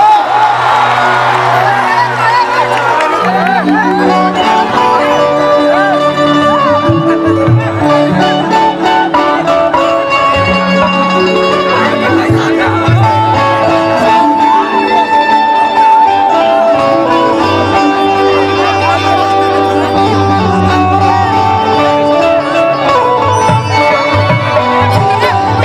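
A lively crowd cheers and whoops at a stage event welcoming a performer in a village, loud and continuous over music, with voices mixed into the din.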